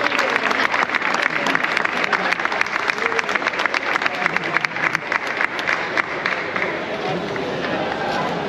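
Sustained, dense applause from a large outdoor crowd at a giants parade in Palma, Mallorca, loud and steady throughout with a murmur of voices mixed in, easing slightly toward the end.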